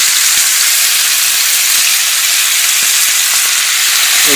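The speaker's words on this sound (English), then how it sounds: "we're just going to add our shanks, make sure they get good contact with the bottom of the pan so we get good browning" Veal shanks searing in a hot pan, a loud, continuous close sizzle and hiss with faint crackles throughout.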